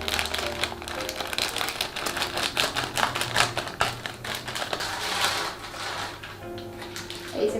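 A package containing gold jewellery is torn and opened up close. Crinkly rustling and crisp ripping and tapping noises come in quick irregular bursts throughout.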